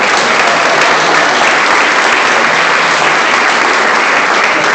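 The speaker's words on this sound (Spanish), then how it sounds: "Un aplauso a mi amigo Nelson y a Lady." Loud, dense applause from a crowd for friends Nelson and Lady at a testimony gathering, a continuous wash of many hands clapping close and steady throughout.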